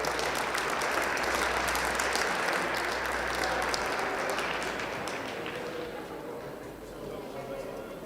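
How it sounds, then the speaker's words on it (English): An audience at a Hays County youth livestock poultry show applauds as exhibitors with their pens of broilers leave the show ring: dense, loud, sustained clapping from a crowd that gradually tapers off toward the end. "Let's give these exhibitors a big round of applause as they exit today."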